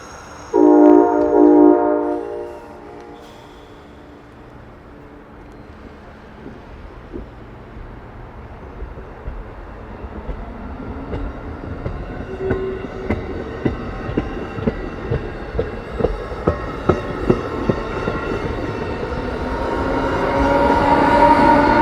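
Amtrak westbound Pennsylvanian passenger train in winter on the Keystone Corridor, a horn blast up front, then a building rumble and rhythmic clickety-clack of wheels as it rolls past close by, growing louder toward the end.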